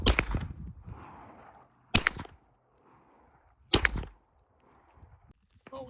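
A Glock pistol fires at a shooting range: three sharp, loud single shots about two seconds apart, each followed by a short echoing tail before quiet returns.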